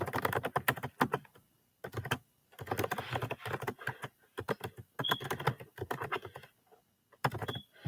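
Fingers type on a computer keyboard in quick, irregular bursts of soft clicking, close and fairly quiet, with brief pauses between runs of keystrokes.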